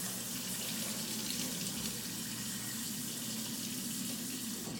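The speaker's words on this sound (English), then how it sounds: "So then you would just want to go and rinse out your cloth." Hot tap water runs steadily into a sink while a microfiber cloth is rinsed and rubbed under the stream, a constant close gush with no talking.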